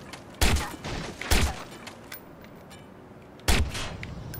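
Gunfire in the video game Watch Dogs: three sharp, loud shots spaced out over a few seconds, each ringing briefly into a quieter background of game ambience, with no talk.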